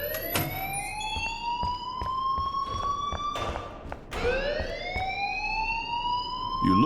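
A loud, continuous electronic alarm in Life Is Strange wails on with repeated rising sweeps and scattered thumps underneath.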